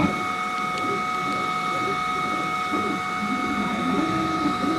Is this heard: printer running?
yes